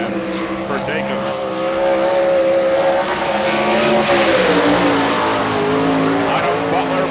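A sprint car roars around a dirt oval at an All Star Circuit of Champions Spring Nationals race in Hartford, Ohio, its loud engine drone swelling and bending in pitch as it passes, with an announcer talking over it.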